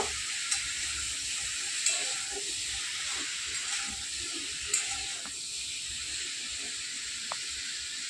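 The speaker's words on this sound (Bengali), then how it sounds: "এরপর আমি আমটাকে ভালোভাবে নাড়চাড় করে নেব।" Mango pieces for pickle being stirred in a pan, soft sizzling and hiss under scattered scraping stir strokes and a few light clinks, fairly quiet and close, no talk.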